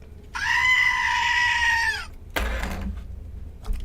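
Headless toy goat mascot letting out one long, loud, shrill bleating scream that holds steady for nearly two seconds and then cuts off abruptly, followed by a brief rustling thump.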